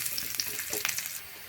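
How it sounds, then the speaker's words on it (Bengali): Chopped onions frying in mustard oil in a pan, giving a close, bright sizzle with scattered crackles and pops that drops away sharply near the end. "পেঁয়াজটা একটু ভাজা ভাজা হয়ে গেছে"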